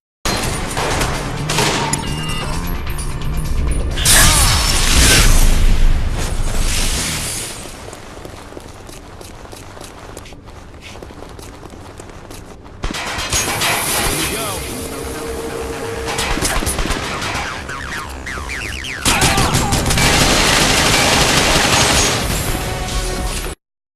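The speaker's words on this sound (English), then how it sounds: "you will always hear the gunshots when you are in a fight" Bursts of rapid gunfire and crashes fill fights in the video game Mindjack, coming in dense volleys with quieter gaps between them and loud stretches near the start and end.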